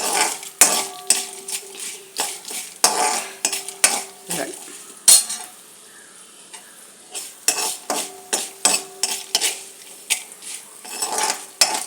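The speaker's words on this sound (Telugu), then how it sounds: "ఎండుమిర్చి కూడా వేగిపోతుంది." Dried red chilies and tempering spices frying in a pan, with a metal spoon scraping and clanking against it in quick bursts over a soft sizzle, pausing briefly midway before the stirring resumes.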